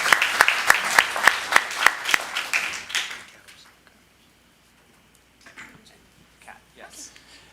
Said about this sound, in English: give them thank you, round of applause.